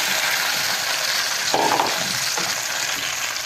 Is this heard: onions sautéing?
yes